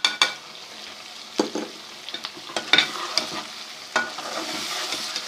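Chicken karahi with yogurt fries in a pan while a spoon stirs it. The clip holds light sizzling and repeated scraping, stirring knocks, with no talk.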